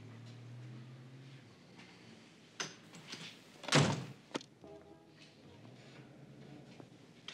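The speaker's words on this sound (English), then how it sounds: "Close the door, Vinnie." Door being closed indoors in a 1980s crime drama scene: a few light knocks, then a firm thud near the middle followed by a short click, moderately loud over a quiet room.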